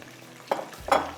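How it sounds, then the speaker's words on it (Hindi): Chapli kebabs shallow frying in a little oil in a frying pan give two short bursts of sizzle and spatter, close and moderately loud, over a quiet low background hum. "हम ले लेते हैं फ्राई पैन, जिसके अंदर हमें फ्राई करना है यहाँ पर चपली कबाब्स"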